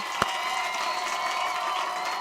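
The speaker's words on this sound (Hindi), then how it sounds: "हम तालियां बजाते हैं पोपटलाल तुम्हारे लिए" Audience clapping on a Hindi TV comedy set, a steady even patter of applause with a sharp hit near the start, moderately loud and continuous throughout, with no talk over it.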